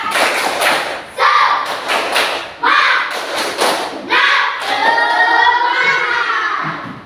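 A class of schoolchildren performs the rhythmic spirit clap (tepuk semangat), loud, close claps in quick patterned bursts with short pauses, mixed with children's voices chanting along.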